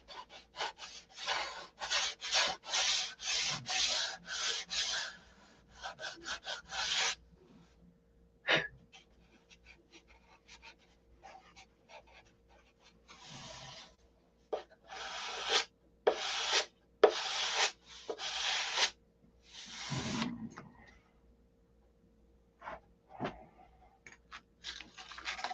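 Rhythmic hand sanding with 180 grit sandpaper, close and crisp, comes in bursts of quick back-and-forth strokes separated by pauses.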